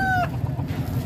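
Chickens at a poultry market in Padre Garcia, Batangas: a near rooster call cuts off sharply, followed by low clucking and a murmur of market crowd.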